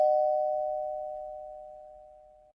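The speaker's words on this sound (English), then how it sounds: "I'm going to give him the doorbell." A doorbell sound effect on a football talk show: a single clean electronic chime rings out and fades steadily over about two and a half seconds, alone.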